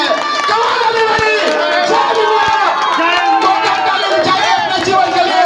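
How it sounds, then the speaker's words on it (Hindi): Loud, dense applause and cheering from a large audience at an achievers' celebration event in Nainital, Jim Corbett, sustained throughout with a voice speaking over it. "अपने जीवन के लिए ताली नहीं रुकनी चाहिए दोस्तों"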